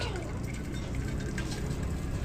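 Water poured from a container, a steady pouring and trickling wash that runs unbroken for the whole stretch at moderate level, with no talk over it.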